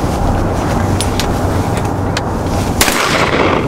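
Distant shotgun blasts on open glassy water during a duck hunt, a few sharp reports with one louder crack near the end, over steady wind and boat-like rumble.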